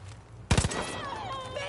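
Short burst of about three rapid gunshots in the video game Far Cry New Dawn, a loud cluster of cracks followed by a fading tail with a faint whine.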